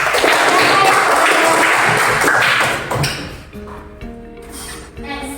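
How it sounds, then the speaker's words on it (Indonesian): A classroom of students claps together in a dense burst of applause lasting a few seconds, then fades into quieter room sound with a few light taps. "Oke, tepuk tangan untuk kita semua."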